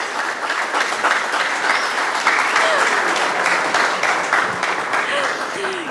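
Sustained audience applause at an agricultural field-day presentation, dense steady clapping from a crowd lasting throughout, fairly loud and even with no break.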